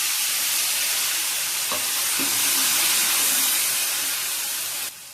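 Loud, dense hiss and sizzle of ground spice paste frying in a hot pan for moth bean curry, steady throughout with a couple of faint clinks, ending abruptly.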